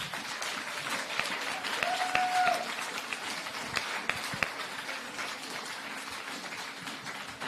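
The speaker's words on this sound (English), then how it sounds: "I think we should just repeat that applause for the whole team who have worked brilliantly." Audience applause at a political meeting on unions and women's labour, a moderate, steady patter of clapping from a crowd, somewhat distant, with a brief tonal squeal midway.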